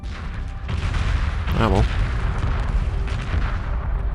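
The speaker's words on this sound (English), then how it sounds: "More explosions." Deep rumbling booms and crackling blasts from space combat in the 1999 game Homeworld roll on continuously and loudly, with a voice briefly speaking over them.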